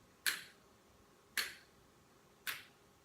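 Three evenly spaced, sharp hand claps or snaps beaten out at a slow walking tempo, about one per second, close and clear against a quiet room.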